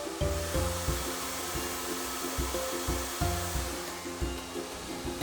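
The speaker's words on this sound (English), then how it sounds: "First, you'll apply heat with your blow dryer as you smooth the section" A hair dryer blows steadily with a broad rushing roar, close and loud, while rhythmic round-brush strokes pulse underneath as a section of hair is smoothed.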